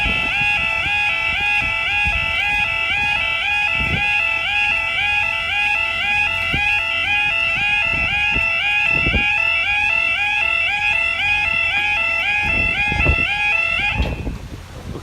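A faulty level crossing alarm at Lincoln High Street rings loudly and continuously in a steady repeating warble of high tones, with faint background noise, stopping abruptly near the end.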